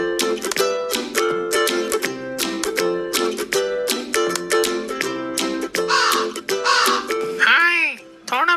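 A cartoon crow caws in an animated story about a thirsty crow in summer, with repeated harsh harmonic calls in a steady rhythm, up close and loud, blending with a narrating voice that may be imitating the caws.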